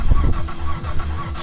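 A car engine in the video game My Summer Car cranks in a loud, rhythmic churning of repeated low pulses, close and alone without talking.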